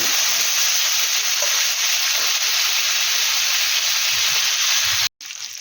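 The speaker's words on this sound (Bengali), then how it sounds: "আলুটা লাল লাল করে ভাজা হয়ে গেছে" Potatoes frying in hot oil for aloo dum give a loud, steady broadband sizzle that runs almost unbroken, with a momentary drop near the end before the frying noise resumes.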